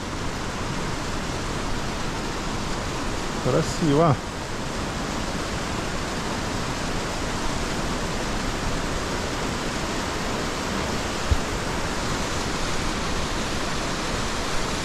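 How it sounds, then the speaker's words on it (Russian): A small waterfall on a mountain trail near Rosa Khutor, Sochi, pours in a steady, broad rushing wash that holds the whole stretch, with a brief spoken word and a faint voice near the start. "Вот он течет, такой вот"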